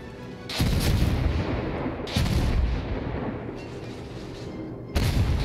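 Heavy warship guns boom in World of Warships during naval combat, several loud broadband salvos rumbling in succession with sustained low rumble between them.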